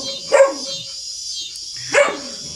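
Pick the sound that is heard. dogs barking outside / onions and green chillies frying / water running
dogs barking outside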